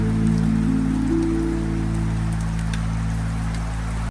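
Steady rain falls on a mountain trek trail, a constant close patter over a loud low hum, with no talk.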